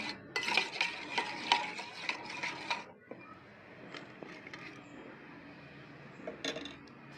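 A spoon stirs 1.5 teaspoons of yeast into a cup of lukewarm milk for homemade wheat bread, giving quick clinking scrapes against the bowl for about three seconds before fading to quieter handling.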